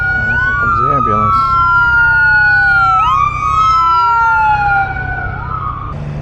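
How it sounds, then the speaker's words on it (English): An ambulance siren wails loudly nearby in traffic, its rising and falling tone sweeping and shifting in pitch as it passes, over steady motorcycle engine rumble and road noise from a Triumph Trident 660 triple. "Here comes the ambulance."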